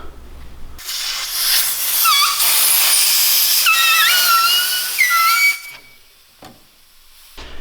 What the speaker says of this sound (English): The normal way I put grips on is with an air compressor.